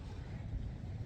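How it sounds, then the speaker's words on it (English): Steady low rumbling wind buffeting the microphone, a continuous dull roar with no distinct events throughout. "It is so freaking windy and cold."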